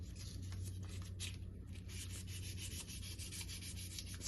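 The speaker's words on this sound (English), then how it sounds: "take a little bit of sandpaper" Sandpaper rubbed against a paint roller to smooth it, a close, steady back-and-forth scratchy rasp that continues without pause and with no voices.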